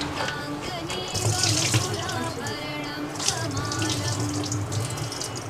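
Chickpeas being rinsed in water under a running tap into a sink, a steady close splashing stream with swishing as the legumes are washed.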